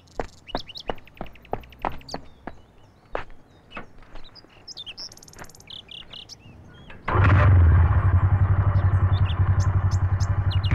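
A motorcycle in a Hindi-dubbed action film scene roars up loud and close after several seconds of bird chirps and light taps, then holds a steady, throbbing engine rumble to the end.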